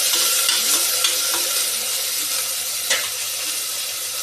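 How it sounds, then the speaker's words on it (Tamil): Onion and tomato sautéing in oil with fennel seeds, a loud close sizzle with scattered stirring clicks and small pops over a steady hiss. "இவங்க கொஞ்சம் எண்ணெய் ஊற்றிட்டு சோம்பு கொஞ்சம், வெங்காயம், தக்காளி எல்லாம் போட்டு வதக்கிட்டேங்க"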